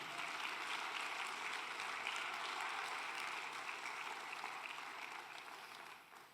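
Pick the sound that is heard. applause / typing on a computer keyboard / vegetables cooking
applause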